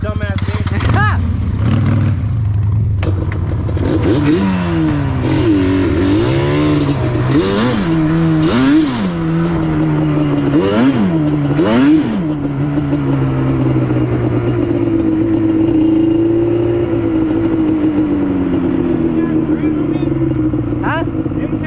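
A Yamaha Banshee ATV launches off the line, its engine loud and close, revving in repeated rising and falling bursts before settling into a long, sustained high-rpm climb, with people talking over it.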